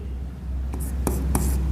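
Marker or chalk strokes on a board during an accounts lesson on share issues, a few short scratchy bursts over a steady low room hum, close and fairly quiet.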